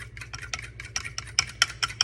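A thick plant-based breakfast mixture whisked in a bowl, giving quick, uneven clicking and scraping strokes close by, about a dozen taps over two seconds above a low steady hum, with no voices.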